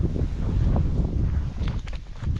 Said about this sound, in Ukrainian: Але і вітер холодний став